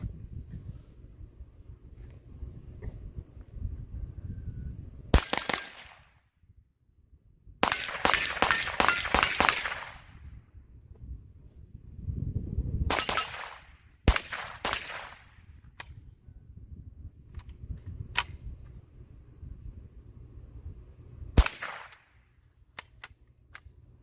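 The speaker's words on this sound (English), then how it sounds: "So just gonna do a little shooting around on some steel." Ruger 10/22 rifle with a Promag Archangel Nomad kit firing Federal ammunition at steel targets outdoors, a handful of sharp cracks spread out with short bursts of quick shots, a little wind noise between them.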